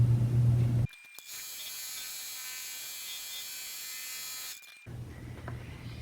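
Machine embroidery stitching down the back piece of a flat-front face mask in the hoop, a steady high buzzing hum running unbroken for about four seconds, close and alone.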